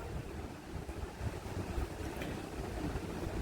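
Water pours into a pot of chana seasoned with salt and turmeric, making a close, steady rushing splash that lasts without a break.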